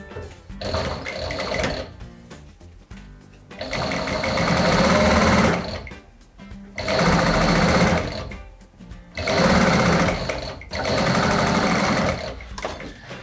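An industrial upholstery sewing machine stitches leather with thick thread in four long bursts of rapid mechanical clatter, each separated by short pauses.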